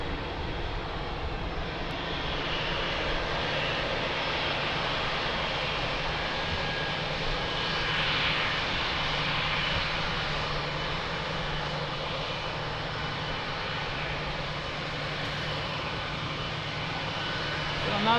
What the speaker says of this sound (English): What a fantastic landing!